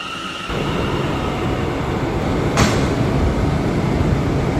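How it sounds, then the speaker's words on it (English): An R211 subway train at 175th Street station starts up with a sudden rise of loud, broad rumbling that holds steady, with one sharp clack partway through. "This is a Brooklyn-bound C train via the A line."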